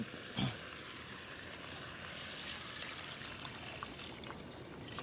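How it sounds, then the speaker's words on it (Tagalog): Water trickles and pours into a cooking pot for chicken tinola, a faint soft stream with a brief splash at the start, close by and quiet, with no talking. "Tapos lagyan na natin ng tubig."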